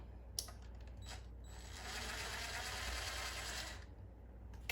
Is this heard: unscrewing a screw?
yes